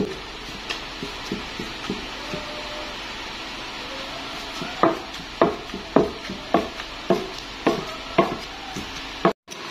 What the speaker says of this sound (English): My oil and onion is ready. I stir fried it.